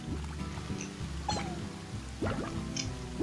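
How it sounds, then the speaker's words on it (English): Water drips in the video game Slime Rancher: a few soft, scattered plinks over a low, steady ambient hum, fairly quiet and with no talking. "Just water."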